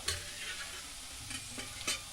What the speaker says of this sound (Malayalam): ഒരു ചീനിച്ചട്ടി അടുപ്പിൽ വെച്ചിട്ട് അതിൽ കുറച്ച് എണ്ണ ഒഴിച്ച് കുറച്ച് സവോളയൊക്കെ അരിഞ്ഞിട്ടിട്ട് ഒന്ന് നന്നായിട്ട് വഴറ്റിയെടുക്കുക